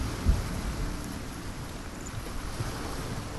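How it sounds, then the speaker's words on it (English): Steady rain in a video game set in a wrecked castle pours in a dense, low wash with a rumbling undertone like distant thunder, continuous throughout. "It's raining."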